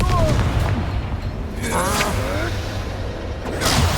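A Confringo fire spell blasts in the Hogwarts Legacy video game, a loud booming burst with a second eruption moments later over a rumbling background.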